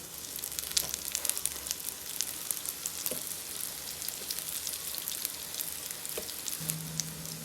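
Thin scallion pancakes frying in a little cooking oil on a preheated electric griddle pan: steady close-up sizzling and crackling throughout, with a few light taps and a short hum near the end, no voices.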